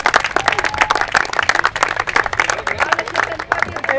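Audience applause at a diocesan altar servers' event, brisk and dense clapping from many people held steady for several seconds, close and loud, with a few voices faintly underneath.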